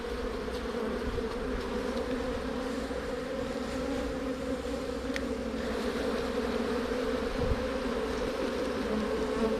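Honey bees buzz on a comb being gently brushed during a hive inspection, a dense steady drone close by with faint scattered clicks, no voices.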